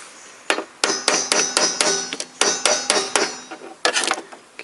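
Hammer striking a nut on a 1995–2002 Toyota Corolla windshield wiper motor, a rapid series of about a dozen sharp metallic blows in uneven bursts, close and loud, with no talk.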